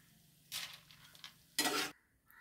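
Roasted chana dal and peanuts fry in hot oil, giving two short bursts of crackling sizzle and stirring, the second louder and sharper, separated by a quieter stretch.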